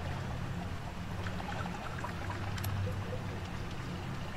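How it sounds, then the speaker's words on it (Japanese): Quiet trickling and dripping water in the video game Shadow Corridor flows steadily with soft splashes and a low hum underneath, fairly faint and without talking. "これ水の音ですよね。 水の音です。"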